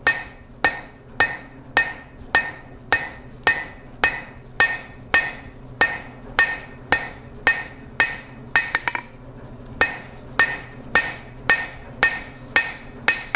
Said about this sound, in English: We're going to come to the edge, half on, half off blows.